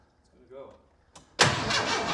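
A 1923 Ford Model T cranks and then catches, a brief sputtering attempt before a sudden loud roar that settles into a rough, steady running engine close by.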